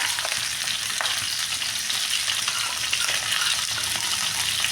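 Eggplant and potato pieces frying in a pan and being stirred give off a loud, steady, dense sizzle that runs without a break, up close, with no talking.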